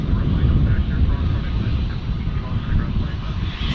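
Airplane taxiing at Dallas Fort Worth International Airport, a steady low engine rumble and broadband roar holding level throughout, with faint voices audible in the background.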